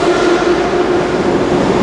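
A metro train rumbles loud and steady at a station platform in Georgia, a continuous low roar with a faint sustained tone and no talking.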